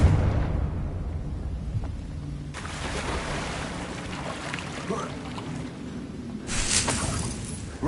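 Confringo spell explosions in the Hogwarts Legacy video game: two broad, rumbling blasts, the first at about two and a half seconds and a brighter one near the end, over a steady low roar.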